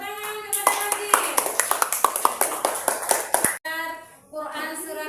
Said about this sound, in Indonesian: tepuk tangan kepada Rajil